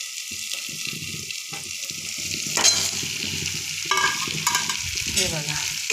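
Bell peppers (capsicum) cook in a pan over low gas, giving a steady soft sizzle with a few scraping stirs and clinks of a utensil, close and moderately loud with no talking.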